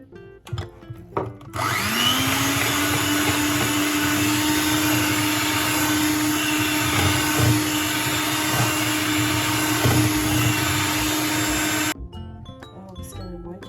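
An electric beater whirring in dry fruit cake batter, a loud steady motor whine starting after a short pause and running about ten seconds before cutting off, with brief handling sounds before and after.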